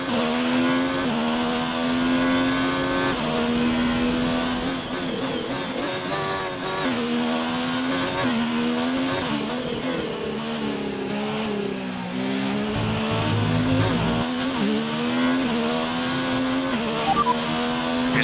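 An F1 2019 race car at Silverstone in the video game accelerates hard, its loud, continuous engine whine sweeping up and down in pitch through repeated gear shifts for the whole stretch.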